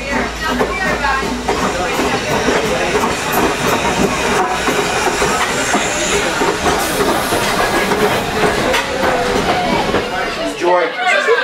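Strasburg Railroad #90 steam train rolling along the rails, steady loud rumble with hissing steam and rhythmic wheel clatter, heard from aboard with voices talking over it.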